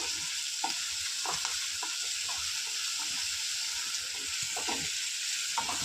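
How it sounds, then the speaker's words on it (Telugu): Urad dal, chana dal, cumin, curry leaves and onions fry in a pan, a constant close sizzle broken by repeated soft scraping stir strokes, with no talking. "తర్వాత ఆనియన్స్ ఇవన్నీ బాగా ఫ్రై అవ్వాలి"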